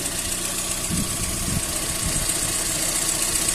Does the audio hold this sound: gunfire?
no